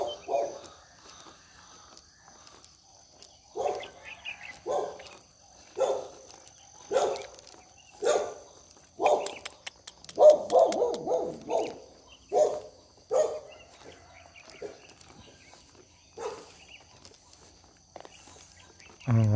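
A dog barks in a rural village near Lampang, Thailand, giving a steady series of fairly loud, evenly spaced barks about once a second, with a quick cluster in the middle.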